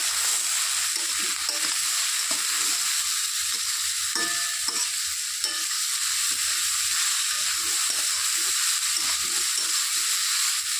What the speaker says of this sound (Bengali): স্বাদ মতো নুন হলুদ গুঁড়ো দিয়ে একটু নেড়ে করে দিতে হবে